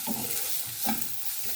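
Chopped onion and bell peppers fry in a spoonful of oil in a pan on a gas burner, producing a brief, even hiss with light bubbling surges and no talking.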